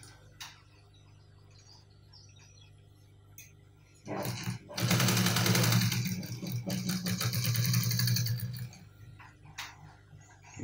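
Sewing machine stitching along a folded jacket lapel, a quiet lead-in followed by a loud rapid whirring run of several seconds with a brief pause partway through.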